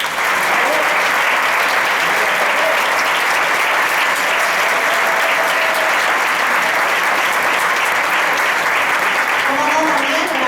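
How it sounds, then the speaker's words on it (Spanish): Festival audience in Port de Sagunt, Valencia applauds a rondalla string group, a dense, loud, continuous ovation from a large crowd sustained without a break. "desearía pedirles un aplauso para nuestra sacrificada e imprescindible rondalla"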